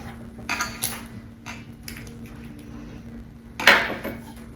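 Two eggs being mixed into banana nut muffin batter in a bowl, heard as scattered light clinks and taps of a utensil against the bowl. One sharper knock near the end, with no talking.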